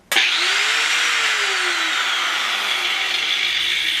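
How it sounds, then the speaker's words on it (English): An angle grinder switched on by touching its supply wires together: a sharp start, then a loud, steady high whine that runs continuously up close with no speech. "I have my angle grinder plugged in and I'm gonna turn it on with these wires."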